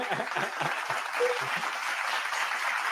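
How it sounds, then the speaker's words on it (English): A sports talk show studio audience gives steady, sustained clapping throughout, fairly loud and continuous, with no talk over it. "Let's get a clap for that."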